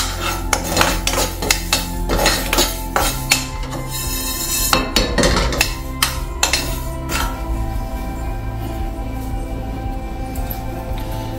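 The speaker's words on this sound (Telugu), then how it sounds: "1 స్పూన్ మెంతులు దోరగా వేపేసుకుందాం." Dry fenugreek seeds roasting in a pan, a spoon or spatula scraping and clinking against the metal in quick irregular strokes, loud and close, easing into quieter stirring with a steady hum beneath.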